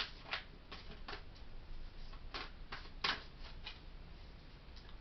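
Tarot cards are shuffled by hand, a steady run of soft riffling flicks and taps with a few sharper snaps, close and quiet.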